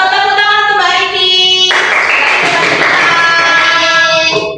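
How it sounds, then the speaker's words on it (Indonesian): Classmates in a classroom give applause for a student, a burst of clapping that starts abruptly partway through over a tonal sound and continues steadily, with hands close and loud before tapering off at the end. "Tepuk tangan untuk Mbak Riki"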